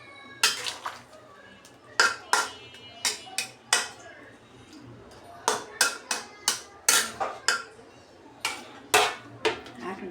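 A metal lid clanks and clatters against a cooking pot in a series of sharp, fairly close knocks, irregularly spaced, while hilsa fish simmers with pointed gourd in a home kitchen; no one speaks.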